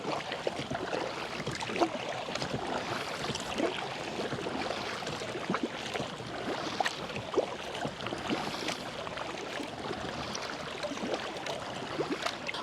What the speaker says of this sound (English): I'm going to try to go full out, paddle full out, and see how it feels.